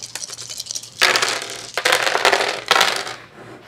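Dice roll during a tabletop board game, giving three bursts of close, loud clattering and rattling, each about a second long, with no talking.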